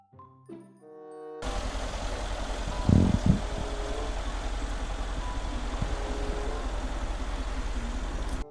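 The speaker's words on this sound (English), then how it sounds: "Six by six car." Toy six-by-six car engine sound effect, beginning with a short chime-like jingle, then a steady idling engine rumble with a brief louder burst early on.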